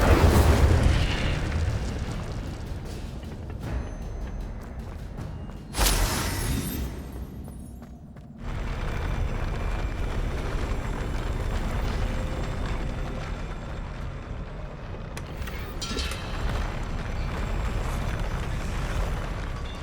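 Incendio fire spell cast in a Harry Potter video game, a loud burst of roaring flame and booming explosion near the start, with further whooshing blasts and rumbling effects through the rest, no speech.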